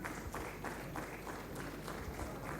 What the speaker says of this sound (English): round of applause for the presidents again please